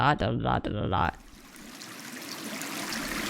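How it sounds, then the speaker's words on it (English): Rushing water of the Sarananga Rapids in the game Raging Loop, a steady broadband roar that rises after a brief stretch of talk and then carries on alone, moderately loud. "distant sounds of water became louder, and I finally made my way through the darkest and arrived at the Sarananga Rapids"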